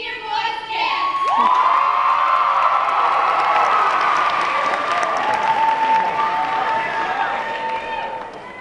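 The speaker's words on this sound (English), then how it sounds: "put your hands together for senior boys' dance" A high school variety show crowd erupts for a senior boys' dance, loud sustained clapping mixed with cheers, whoops and shouting that swell quickly and hold for several seconds.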